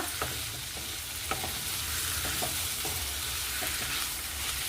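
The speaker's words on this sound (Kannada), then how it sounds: "ಇಲ್ಲಿ ಮಧ್ಯದಲ್ಲಿ ತಿರುಕೋತಾ ಇರಬೇಕು" Vegetables for capsicum rice fry steadily in a pan, a continuous close sizzle with soft scraping stirs of a spoon every second or so, with no talking.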